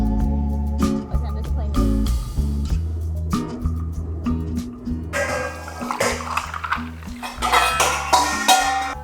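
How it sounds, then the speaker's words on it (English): A toddler plays with nesting bowls, clattering and knocking them together in irregular bursts of hollow clinks and bumps, close and fairly loud, growing busier and more rattly toward the end. "These nesting bowls are one of his favorite toys right now"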